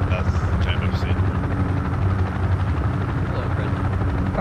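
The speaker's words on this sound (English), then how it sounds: "Helicopter" A helicopter in the military shooter Project Reality, a loud, close, continuous rotor thump and engine roar steady across the whole stretch, with voices talking over it.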